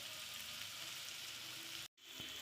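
Potatoes with tomato, chilli and turmeric frying in a pan, a steady close hiss and sizzle with a brief gap near the end, no talking.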